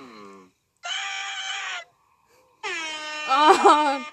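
Screaming siren wail from the horror creature Siren Head in an animated Mario cartoon, two loud harsh blaring bursts of about a second each, the second rising into a shrieking peak, separated by brief silence and preceded by a short voice.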